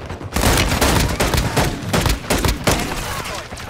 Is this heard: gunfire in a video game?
yes